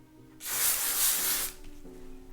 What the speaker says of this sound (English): Spraying hairspray right into your face.